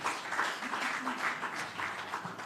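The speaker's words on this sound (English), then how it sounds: "Give her another round of applause" Crowd at a Labour Day launch event in Jamaica applauding, a dense, continuous wash of clapping heard at moderate distance, steady throughout.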